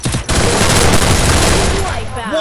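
Rapid MP40 submachine gunfire in the Free Fire video game, a dense loud burst of continuous shots lasting about two seconds, with a voice partly under it.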